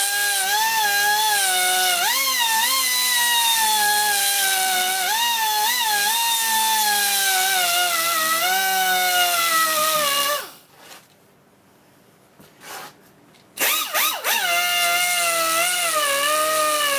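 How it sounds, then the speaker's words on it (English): Die grinder grinding off a gear post on an Atlas 10 inch lathe apron, a loud, continuous high-pitched whine with wavering pitch for about ten seconds, then a brief pause and a short restart. "take a die grinder and grind it off"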